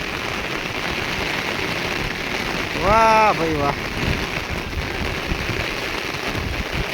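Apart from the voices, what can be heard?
rain falling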